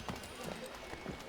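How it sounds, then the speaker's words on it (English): Horse hooves clip-clop in Assassin's Creed III, a few soft, fairly quick hoof strikes heard under steady talk. "I like horses, but not these horses."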